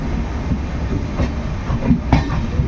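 The Kanyakumari Express passenger train, 12633, rolls along the tracks at night near Dindigul with a steady low rumble and faint rhythmic clicks of wheels over rail joints, heard from on board, loud and continuous with no talking.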